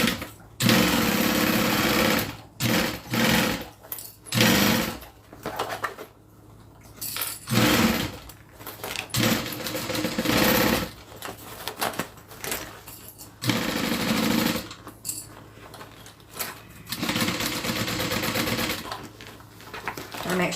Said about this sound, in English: Make sure I'm not sewing over my interior fabric as well.